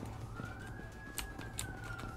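A police siren wails in the Brazilian video game 171, a steady rising and falling tone over busy game ambience with a few brief sharp sounds.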